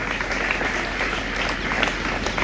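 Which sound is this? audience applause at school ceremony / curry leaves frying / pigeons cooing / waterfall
audience applause at school ceremony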